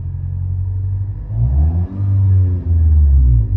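A car engine converted to run on hydrogen with a stock ECU idles with a low, steady rumble close by, dipping briefly twice before settling back to an even hum, with no talking.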